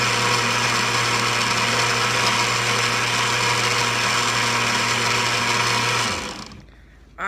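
A kitchen blender whirs loudly and steadily while blending a banana smoothie, then cuts off abruptly near the end, leaving a brief quiet tail.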